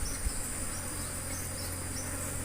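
A steady buzz of Apis cerana honey bees at a bee farm hums faintly and continuously, droning nearby, with a high persistent whine over it.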